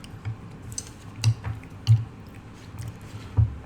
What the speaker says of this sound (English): it's probably picking up all of my like chewing sounds